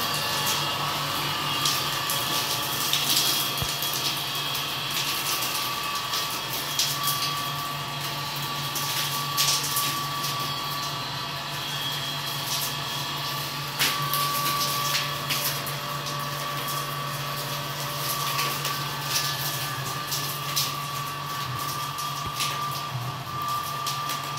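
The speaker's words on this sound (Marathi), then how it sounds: "प्रेशरने पाणी येतं मोटर लावल्यामुळे." A motor pump sprays pressurised water onto the walls of a new house under construction in a Konkan village, a steady continuous drone and hiss without any talk.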